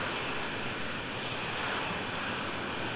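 A fighter jet engine spooling up during takeoff in the Falcon 4.0 flight simulator, a steady broadband roar that holds level across the whole stretch with no talk.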